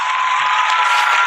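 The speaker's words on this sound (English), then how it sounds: "Round of applause for Bottom Line." Audience applause at a live podcast recording at the Urban Arts Expo 2021, a steady, dense wash of clapping throughout, fairly loud and close, with no voices.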